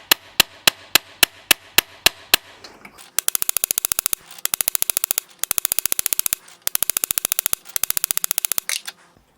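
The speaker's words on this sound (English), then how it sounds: "And then rivet the two components together." A small hammer riveting together two parts of a brass date wheel for a 19th-century longcase clock: a slow run of sharp, evenly spaced taps, then several quick bursts of rapid light tapping, close and distinct.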